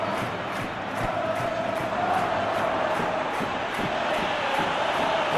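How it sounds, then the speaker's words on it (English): Football stadium crowd in an eFootball match between Real Madrid and Getafe, a steady dense roar of cheering and chanting that holds loud and even throughout, with no commentary over it. "Well, the crowd clearly like what they just saw."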